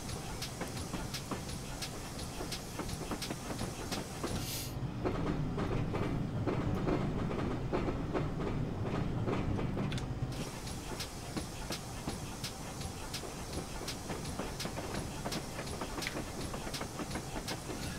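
Steam locomotive running in Train Simulator 2019, a GWR Pannier Tank pulling coaches on the Riviera line of the 1950s, with a continuous rumble, regular clickety-clack over rail joints and a hissing swell midway, loud and close.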